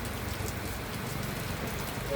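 Steady rain falls and splashes on surfaces, a dense continuous hiss with soft patter, fairly close and even throughout, with faint talking in the background.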